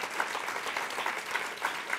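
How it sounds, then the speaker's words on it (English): Steady applause from a crowd honouring Majora Carter, a dense even patter of many hands lasting throughout, moderately distant and fairly soft. "let's just give a round of applause for this amazing, amazing woman"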